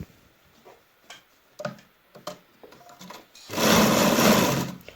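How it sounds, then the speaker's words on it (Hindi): A sewing machine stitches a kurti placket: soft clicks and taps at first, then a loud, fast, continuous whirring run for about a second and a half, close by with no talking. "इसको मैं यूँ स्टिच कर लूँगी।"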